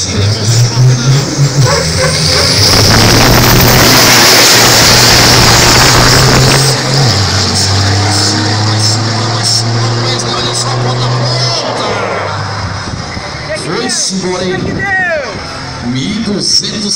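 A 1,200 hp Scania racing truck launches down a drag strip at a speed-truck event, its loud engine roar building and holding steadily, then fading as it pulls away, with crowd babble and a commentator talking over it.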